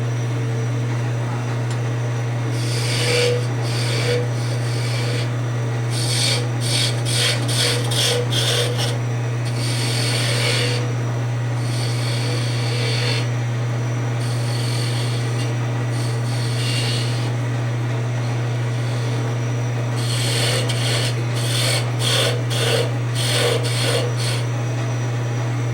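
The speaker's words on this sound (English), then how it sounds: "To do the detail work on the bottom, I usually use a 3-inch fingernail spindle gouge with a fairly sharp point to it." A 3-inch fingernail spindle gouge cuts the bottom of a wooden birdhouse on a lathe, making steady rasping scrapes in rhythmic clusters of short strokes over a constant motor hum, close and without talk.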